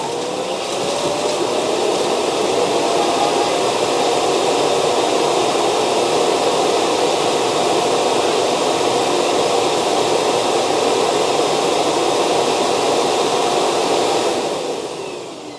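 Ultenic T10 robot vacuum self-cleaning at its dock, a loud, steady whooshing motor roar like a hair dryer that holds for about fifteen seconds before tapering off at the end.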